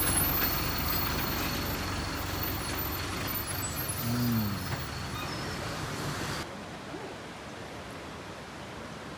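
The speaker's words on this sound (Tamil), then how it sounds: "பஸ்ஸை கொஞ்சம் பார்ப்போம்." A bus on a mountain estate road in Sri Lanka rumbles with a steady engine drone, and a loud hiss of air brakes cuts in partway through before the sound drops to a quieter background.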